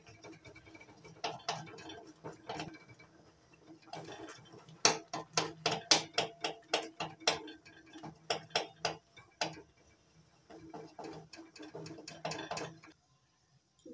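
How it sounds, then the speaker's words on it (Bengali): A metal dal masher works through boiled masoor lentils in a pot, giving a run of rapid, rhythmic tapping strokes that speed up and fade in bursts, close by and fairly quiet, with no talking. "ডালের কাটা দিয়ে ডালটা ভালো করে ঘুটে নিয়েছি"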